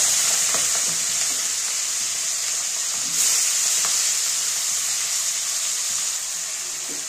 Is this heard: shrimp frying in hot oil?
yes